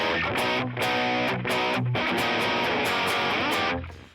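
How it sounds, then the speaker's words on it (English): Heavily distorted electric guitar chords from a rock song, played loud and continuous for several seconds with a few brief dips between strums before fading at the end. "As soon as you click on your distortion"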